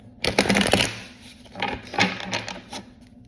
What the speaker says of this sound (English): Found a way to shuffle so my cards don't get mixed up or leave me with reversals